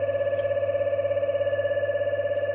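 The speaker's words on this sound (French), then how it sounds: "Pour ne pas être gêné par le son de la sonnerie" An electric alarm bell signals a motor fault on an electrical control panel, ringing steadily with a rapid, even metallic trill, continuous and fairly loud with no voices.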